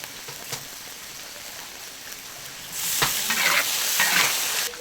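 Sizzling stir-fry of scallops with ginger, garlic, pickled chili, oyster sauce and soy sauce in a hot wok, a quiet hiss that swells into loud crackling frying with stirring scrapes partway through.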